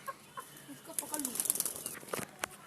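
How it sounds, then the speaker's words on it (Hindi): Rooster flapping its wings while being caught, a close burst of rapid wing beats and scuffling mixed with faint clucks, with voices in the background. "बड़े वाले मुर्गे को पकड़ो"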